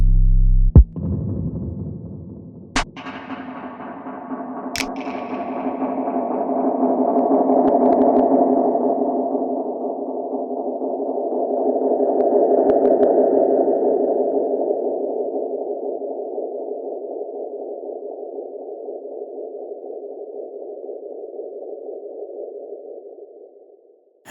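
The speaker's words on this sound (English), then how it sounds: "Send it to the space echo style delay and bring up the feedback to get it to self-oscillate." A space echo style tape delay pushed to high feedback self-oscillates into a sustained, throbbing tone that swells and slowly fades over many seconds, with faint clicks near the start and no voices.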